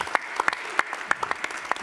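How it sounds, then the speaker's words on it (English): Scattered clapping from an audience at a startup competition grand final in Germany, steady and moderately loud with sharp individual claps popping out over the brief span. "Big applause."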